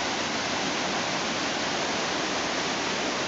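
Huai Sai Lueang waterfall in Chiang Mai, Thailand, about sixty metres tall, pours in a dense, steady roar of falling water with no pauses and no voices.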